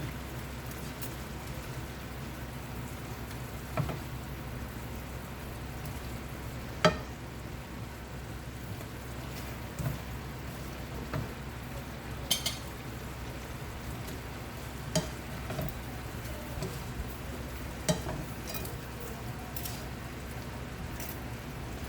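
Fish added to a pan for Jamaican sweet and sour fish sizzles softly and steadily, a faint even crackle with a few sharper pops and taps scattered through, no talking.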